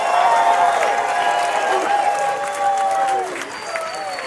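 Rally crowd at an outdoor reparations gathering applauding steadily, with cheering and voices mixed in and a sustained whistle-like tone running over the clapping.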